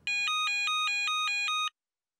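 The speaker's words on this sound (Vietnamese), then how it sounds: "Ờ, điện thoại cúp rồi hay sao đấy? Có thấy ai nói gì đâu. Toàn tiếng tít tít thôi mà." A telephone line giving repeated electronic beeps after the caller hangs up, in a Vietnamese animated folk-tale cartoon: about eight evenly spaced tones, loud and close, alone, ending abruptly.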